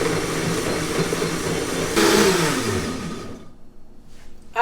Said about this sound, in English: I'm going to turn on the blender.